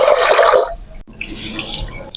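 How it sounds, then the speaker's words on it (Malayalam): Water is poured into a pressure cooker, a short splashing gush up close that stops abruptly, followed by quieter clinks and drips. "കുക്കറിൽ കുറച്ച് വെള്ളം ഒഴിച്ചു കൊടുക്കാം"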